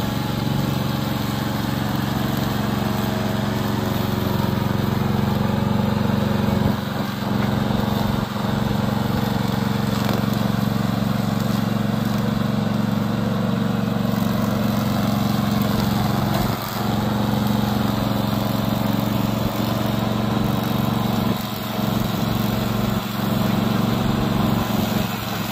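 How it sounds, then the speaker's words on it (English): A remote control lawn mower engine drones steadily and loud throughout, a constant mechanical hum with a few faint dips. "Today I'm going to introduce our remote control lawn mower."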